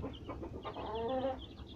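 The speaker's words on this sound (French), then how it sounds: "Voilà les poussins." Young chicks from a small flock of laying hens peep in a brief, steady chorus of high chirps, close by and fairly soft, with faint rustling underneath.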